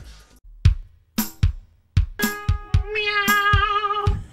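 Several sharp knocks and clicks, then a sustained, wavering meow-like tone held for over a second among the taps.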